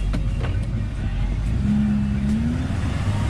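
Work truck engine revving steadily in a muddy cornfield, a loud continuous low rumble with a rising whine partway through and no talk over it.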